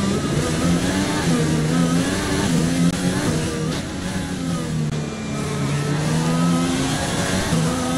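Race car engine in the F1 2020 game, a loud, sustained high-revving roar that rises and falls in pitch as the car accelerates through the gears, close and continuous throughout.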